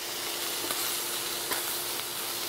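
Peameal bacon sizzles steadily in hot oil in a pan, a continuous close frying hiss with a few small pops and spatters rising above it.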